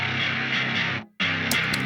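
Bass guitar track in a mix, shaped with a big low cut at 170 and a carved-out midrange, playing dense and steady with a brief dropout near the middle before resuming with bright high accents.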